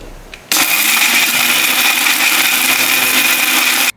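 A kitchen mixer grinds drumstick leaf chutney powder with rock salt, starting abruptly and running as a loud, steady whine that stops sharply after a few seconds.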